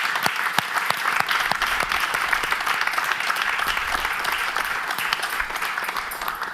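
An audience at a gathering for a women's evangelical choir in Burkina Faso applauds steadily, with dense, sustained clapping running throughout at an even, lively level.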